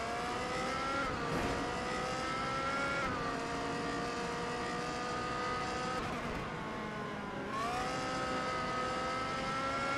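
Race cars scream around the Le Mans circuit in a racing video game, their engines rising and falling as they shift gears over and over, with loud, continuous high-revving tones and no voices.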